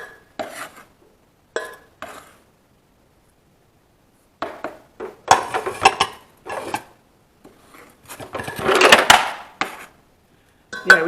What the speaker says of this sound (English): Right, I'm going to start putting this in the pan.